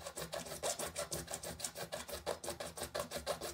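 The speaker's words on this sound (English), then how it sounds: "Cutting with a handsaw is highly recommended" A handsaw cuts through acrylic plastic in a quick, steady back-and-forth rhythm of rasping strokes, close and fairly quiet, with no voices.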